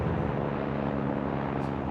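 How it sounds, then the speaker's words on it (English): Steady low rumble of a helicopter overhead, continuous and fairly loud, with no other sounds breaking through. "Sorry about the helicopter"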